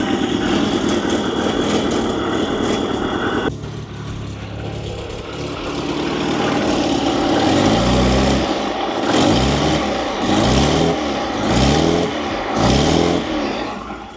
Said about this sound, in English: We can actually hear the motor now without it being open header.